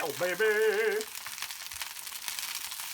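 Sausages browning in a pan, a soft broadband sizzle that runs steadily after a short burst of a humming or singing voice at the start.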